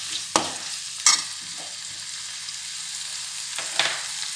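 Garlic frying in oil in a pan for Chettinad chicken, a soft steady sizzle punctuated by a few sharp utensil clinks and scrapes nearby, no voices.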